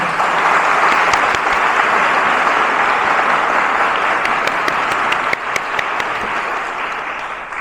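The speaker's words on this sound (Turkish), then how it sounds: "Ben sayın valimize ben de bir alkış rica ediyorum." A dense, sustained round of crowd applause for the governor at a Kayseri women's cooperatives event, loud and steady, thinning slightly near the end.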